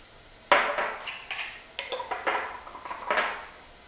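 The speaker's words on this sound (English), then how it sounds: "I'm just going to combine this all in a bowl." Spices such as chili powder, cumin and paprika being combined in a bowl, with several light clinks and taps of a utensil against the dish in an irregular series, close and fairly quiet.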